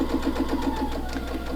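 A sewing machine stitches a quarter-inch seam through bias-cut quilting fabric, giving a steady, fast mechanical whir with an even pulsing rhythm, close and moderately loud.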